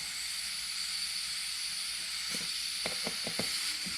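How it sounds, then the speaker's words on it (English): Steady, fairly loud hiss of residual air escaping from inside a tire rim on a mini tire changer, with a few soft knocks and clicks near the end. "Now the air you hear is residual air that's inside the rim."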